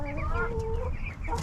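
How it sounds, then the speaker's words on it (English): Chickens cluck and call inside a chicken house, a steady run of close, overlapping clucks with some voice-like tones over a rumbling background. "you can see the chickens over there in that one"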